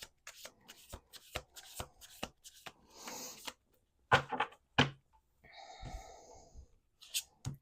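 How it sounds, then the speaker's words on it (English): Tarot cards shuffled in close, rapid riffling bursts, a run of crisp papery flutters and taps with short pauses between, with no talk over them. "1 last shuffle here."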